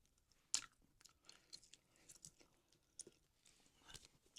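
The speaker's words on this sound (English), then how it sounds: "By chewing gum." Gum being chewed close to the mic in a whispered ASMR setting, with soft wet smacks and clicks repeating irregularly, a sharper snap near the start and scattered quieter chews throughout, no talking.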